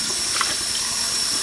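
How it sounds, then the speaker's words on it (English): Tap water runs steadily into a sink or tub during a baby's bath at home, a continuous close splashing wash with a brief louder splash near the middle. "There's a baby taking a bath."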